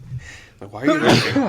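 A single close sneeze bursts out amid a casual podcast conversation, followed immediately by people talking and laughing over it.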